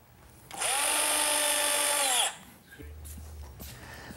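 A power drill drives 1¼-inch galvanized screws into wood, one steady high whine lasting under two seconds before it stops, then quiet handling noise.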